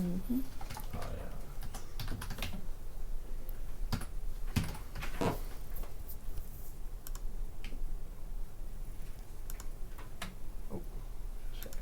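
Typing on a computer keyboard: quick, irregular runs of light key clicks, close and moderately quiet, with short pauses between bursts.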